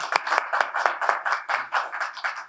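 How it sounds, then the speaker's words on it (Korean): An audience at a Korean university peace-research seminar claps to welcome the institute's founding director, a quick, fairly even run of bursts over a couple of seconds. "박수로 환영해 주시면 고맙겠습니다."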